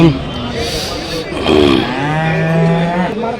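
Milk cows moo loudly and repeatedly at the Punganur cattle market, long drawn-out lowing calls from several animals close by, with a busy crowd murmuring in the background.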